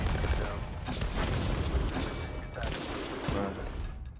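Bunker buster bomb blast in the Roblox combat game Noobs in Combat: Cold Front, heard as dense, loud, rumbling explosions and gunfire-like crackle that stays continuous across the clip, with brief bursts standing out.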